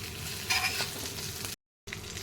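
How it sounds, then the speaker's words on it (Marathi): Stuffed green chillies cook uncovered in a pan with a close, steady sizzle, broken by a short gap of silence. "आणि आतपर्यंत मस्त शिजतात या मिरच्या वाफेवर आता आपल्याला यावर झाकण नाही ठेवायचं अशाच ठेवायचं"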